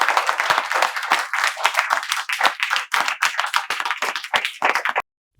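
An audience claps to welcome someone, with crisp, rapid hand claps close and lively for about five seconds before cutting off abruptly.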